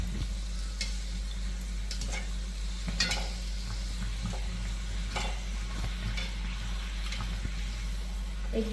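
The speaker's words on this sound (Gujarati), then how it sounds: "હવે આપણે એને તળવાનું છે ધીમે ધીમે મીડિયમ તાપે" Rolled rotli cups fry slowly in oil over medium heat for Jain chole katori chaat, giving a steady, close sizzle over a low hum, with occasional light clicks and scrapes.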